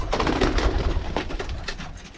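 Birmingham Roller pigeons cooing inside a loft, soft repeated throaty coos close by with light shuffling, no talk.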